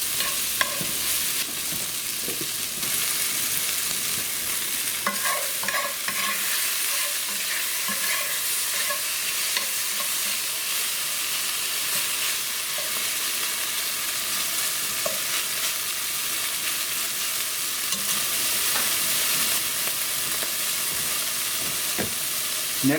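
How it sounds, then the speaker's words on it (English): Lamb browning in rendered bacon grease for a stew, a steady close sizzle with frequent spatula scrapes and stirring clatter running throughout, no voices. "use the bacon grease to brown my lamb"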